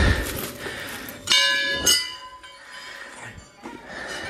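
Many temple bells clang and ring out, with bright metallic strikes and lingering tones over a soft background of rain.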